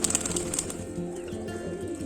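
Banaras-breed high-flying pigeon cooing softly, low repeated coos close by, with faint chirps and a light flutter early on.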